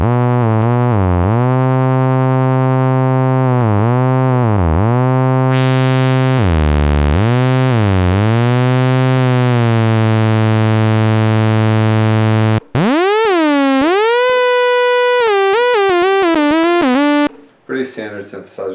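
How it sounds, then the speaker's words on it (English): Arturia MiniBrute analog synthesizer notes swoop and slide into one another with glide portamento, loud and buzzy, a long run of bending tones followed by faster gliding phrases near the end. "The glide, which is portamento."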